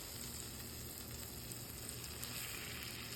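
A butter, breadcrumb and Parmesan sauce bubbling steadily in a pan on the stove, a constant soft crackling hiss that stays even and close throughout.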